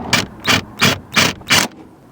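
A hand wrench tightening 14 mm bolts on a 240SX interior, heard as five loud, close ratcheting bursts in a steady rhythm, each lasting about a quarter second and separated by short pauses.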